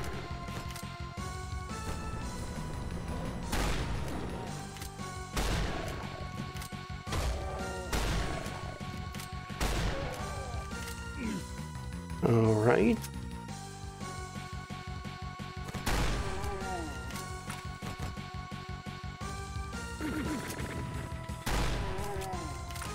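Chaingunner opening fire in GZDoom on a snowy tundra map, a burst of rapid gunfire cracking out amid dense game music and other combat noise.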